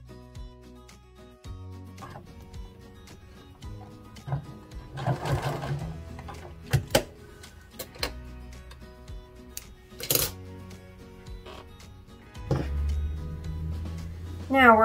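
A sewing machine stitches straight down a length of dress fabric in several short runs of rapid mechanical chatter, separated by pauses and small clicks and handling noises.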